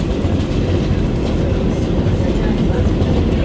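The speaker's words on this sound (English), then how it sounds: "This is an express train, so the next stop is Junction Boulevard." Interior rumble of a New York City Subway 7 express train in motion, a loud, continuous low roar with faint rattling, steady throughout the ride with no clear speech.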